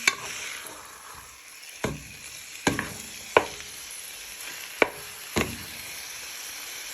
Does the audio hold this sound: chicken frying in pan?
yes